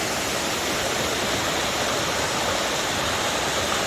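A waterfall in a Utah canyon pours down a series of small cascades into a little creek, making a loud, steady, close rushing roar with no talking.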